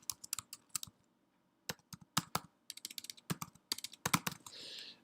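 A name is typed on a computer keyboard, with quick irregular bursts of close, crisp key clicks, a short pause in between, and a brief soft rustle at the end.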